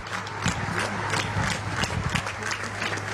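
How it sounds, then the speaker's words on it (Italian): Applause rings out at a funeral ceremony, a continuous crowd of hands clapping steadily at moderate distance throughout. "E ancora l'applauso continua, grande commozione."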